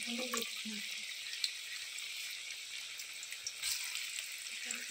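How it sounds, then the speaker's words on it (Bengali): Cabbage pakoras fry in hot oil with a faint, continuous bubbling sizzle at low level, with a few soft clinks and handling noises over the top. "এইভাবে সব পকোড়া ভেজে নেব"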